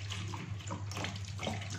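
Tap water runs steadily over eggplants in a kitchen sink, a continuous close splashing wash with no talk over it.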